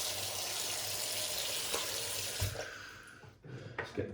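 Water from a bathroom tap runs in a steady, close hiss before shaving, then is shut off near the end, leaving a few faint drips and small knocks.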